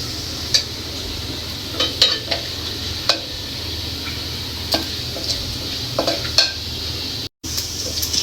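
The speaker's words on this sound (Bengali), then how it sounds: "জিরাটা একটু ভাজো" Cumin seeds fry in a pan with a low, steady sizzle and a background hum. Sharp scrapes and clinks from stirring come at irregular intervals, and the sound cuts out briefly near the end.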